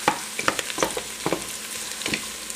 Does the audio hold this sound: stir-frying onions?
yes